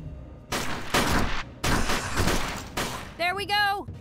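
Several bursts of gunfire crack out in UFO Afterlight, a turn-based strategy game, with four loud volleys in quick succession followed by a warbling electronic tone.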